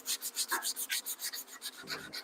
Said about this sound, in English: We got a little filler I got to sand just from earlier.